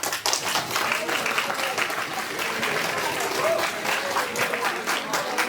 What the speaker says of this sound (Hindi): पंकज कुमार के लिए पहले तालियां।